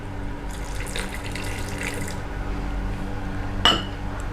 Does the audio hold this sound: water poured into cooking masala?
yes